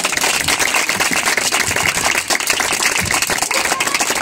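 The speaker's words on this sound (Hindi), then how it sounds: "यीशु के जलाल के लिए तालियां बज सकती हैं" Worshippers in a church clap for Jesus, a dense and loud patter of many hands that runs continuously and evenly throughout.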